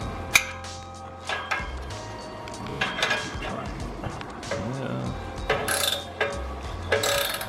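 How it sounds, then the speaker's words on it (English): Ratchet wrench clicking in rapid irregular bursts while working under a Chevrolet Malibu with a 406 engine, close and sharp among clanks of tools and parts, with people talking in the background. "Ratchet wrench."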